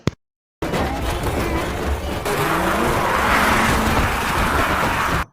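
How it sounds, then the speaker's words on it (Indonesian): A car speeds through a zombie-overrun city in a film chase, its engine roaring loud and steady with tire noise after a brief silent gap at the start. "Terlihat bocil tersebut gege sekali mengendarai mobil, seperti di film Fast Furious"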